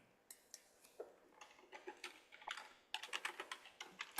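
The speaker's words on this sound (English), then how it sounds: "we are typing in the chat now" Computer keyboard typing with irregular clusters of crisp key clicks, faint and close, growing quicker and denser toward the end, with no voices.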